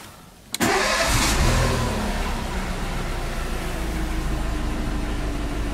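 A VW Lupo car engine cranks briefly and catches, then settles into a steady, close idle that fills the rest of the clip with no talking.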